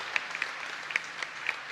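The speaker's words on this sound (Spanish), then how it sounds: "Un fuerte aplauso para nuestra comunidad." Congregation at a Catholic mass in a parish church applauding, a brief, fairly faint patter of claps with a few sharper individual claps standing out.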